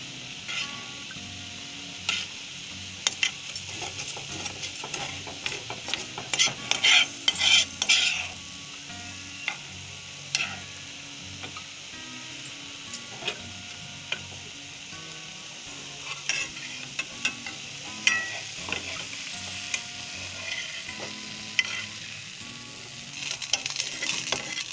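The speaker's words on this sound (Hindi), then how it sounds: "इसे भी छोड़ा के पराठी के ऊपर डाल दो। अच्छी तरह से सुखा ले दूध को।" Bread soaking up milk in a frying pan while being stirred, for a sweet bread dessert; steady soft sizzling with repeated scraping and clinking of a spoon against the pan, close and alone.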